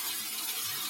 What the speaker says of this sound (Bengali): মশলাটা বেশ সুন্দর কষানো চলছে।